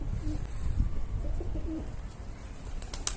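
Pigeons coo softly in a few low, rounded calls over a steady background hum, with a brief high chirp near the end.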